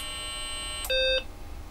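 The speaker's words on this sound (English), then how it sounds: "and you'll hear the beep, watch the screen," A BBC Master computer sounds a single short, steady electronic startup beep lasting about a third of a second, clear and alone against a quiet background hum.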